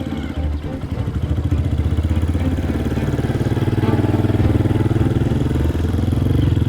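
A dirt bike engine runs loud and close throughout as the bike is ridden, a steady rapid mid-pitched chug that holds fairly even with slight swells in revs.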